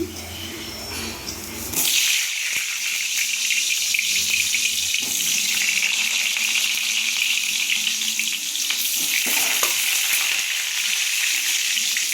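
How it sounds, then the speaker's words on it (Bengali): Potato pieces fry in a pan after mutton has been boiled, a loud dense hiss of hot oil that bursts up suddenly and then holds steady, close by, with no talking. "মাংসটা সিদ্ধ হওয়ার পরে এই আলুটা ভেজে নিচ্ছি"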